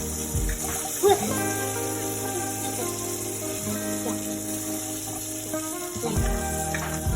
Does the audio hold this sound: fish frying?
yes